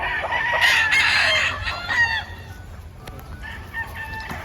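Early bird gamefowl roosters crow loudly and nearby, one long crow followed by shorter calls and scattered clucks from chickens around them, with a faint voice in the background.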